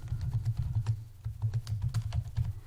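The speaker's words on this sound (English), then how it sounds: "we're going to type in" Fingers type on a computer keyboard in a quick, uneven patter of close, crisp key clicks. No voices accompany the typing.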